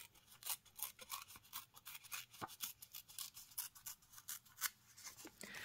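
Patterned paper is torn by hand in quiet, uneven rips, a run of short close fibrous tearing strokes with no talk.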